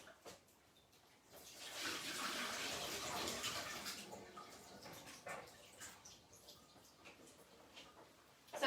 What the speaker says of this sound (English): So what we're going to do is just get rid of this excess water.